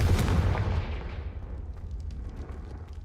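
A Confringo fire spell cast at a brazier in Hogwarts Legacy opens with a loud booming blast that decays into a crackling, rumbling fire tail over several seconds, with no voices.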